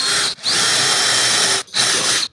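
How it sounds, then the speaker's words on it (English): A power drill bores a hole through a plastic pitcher lid sealed with silicone. The steady, loud, close whine runs in two bursts separated by a brief pause, with no voices. "Let's see if we can put a hole in that lid."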